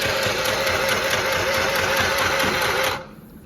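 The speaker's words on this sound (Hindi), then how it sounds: "अब मैं सिलाई करूँगी" An Akira mini sewing machine stitches in a steady, fast, close mechanical whir for about three seconds, then abruptly stops, leaving a quiet room tone.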